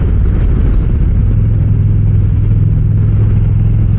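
Indian Challenger V-twin motorcycle riding along, a steady, loud low engine rumble with a constant drone and no clear revs or gear changes, heard alone.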